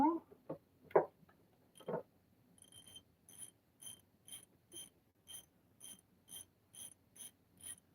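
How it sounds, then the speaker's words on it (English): Ratchet wrench with a 15 mm socket working the last bolt on a 2007 Chevrolet Malibu engine during cylinder head removal, a few louder clanks then a steady run of close, crisp ratchet clicks. "let's grab that 15 mil again. Take this last bolt off right here."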